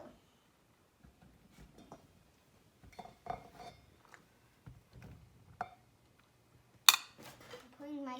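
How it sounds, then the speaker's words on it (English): Cashews being poured into a blender jar, sparse hard clicks and rattling clatter at close range with quiet gaps, ending with a brighter clink and a faint voice. "put 2 cups of the cashews in the blender"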